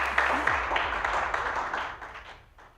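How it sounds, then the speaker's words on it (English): Audience applause at a youth advocacy workshop on inclusive democracy, a broad wash of clapping from a crowd that starts strong and gradually fades out over a few seconds. "A big clap for Titers."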